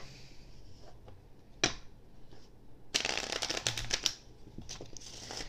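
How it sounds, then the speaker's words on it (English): A deck of playing cards is shuffled close by in a card trick, with a sharp riffle, a pause, then a longer burst of rapid flapping riffles and a final ruffle, no talk. "So now what I'm gonna do is I'm gonna go ahead and shuffle."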